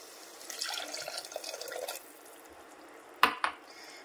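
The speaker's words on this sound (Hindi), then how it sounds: "अब हम इसमें डालेंगे पानी" Water splashes briefly into a pot of cooking spinach curry, a burst of pouring followed by a couple of sharp splashes and drips near the end.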